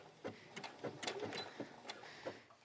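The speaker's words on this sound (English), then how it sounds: "I'm going to fold that elastic under, stretch it just a tiny bit so that I don't have ripples in my fabric, and then stitch along" A sewing machine stitches elastic onto children's leggings with a narrow zigzag stretch stitch, giving faint, quick irregular mechanical taps close by, with no talking.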